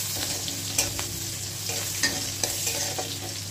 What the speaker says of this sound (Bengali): এটা কিন্তু আমি একদম হালকা ফ্রাই করে নেব, বেশি পেঁয়াজটা ভাজবো না।